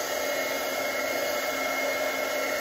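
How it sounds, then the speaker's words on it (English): A hair dryer drying glue blows steadily up close, a constant airy roar with a thin high whine, nothing else audible. "it's because of the blow dryer or the heat dryer."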